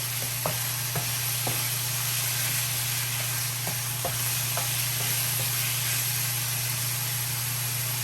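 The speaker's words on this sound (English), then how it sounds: "I'm just gonna stir fry this for about 6 minutes." Steady sizzling of chicken stir frying in a hot pan, with a few faint clicks and scrapes of stirring against a constant low hum.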